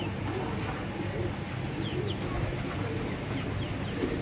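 Several Teddy-type pigeons in a loft give low, steady cooing, blended with continuous rustling and ambient noise at moderate level throughout.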